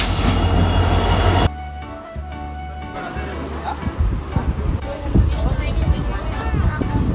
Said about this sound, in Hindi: Finally पहुंच गया हमारा ट्रेन।